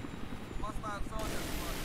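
A scout helicopter in the video game Battlefield 3 whirs with a steady rotor and engine drone, fairly quiet and continuous, with a brief rising whine partway through.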